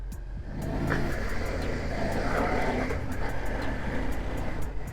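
A 2003 Suzuki SV 650 motorcycle's V-twin engine drones steadily while riding, a continuous close mid-pitched engine note that rises slightly as it pulls through the gears, with wind rush and no talk.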